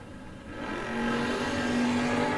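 A 1968 Camaro and another drag race car at a no-box drag racing shootout, an engine roaring as it accelerates, swelling in loudness within the first second and then holding a sustained high rev.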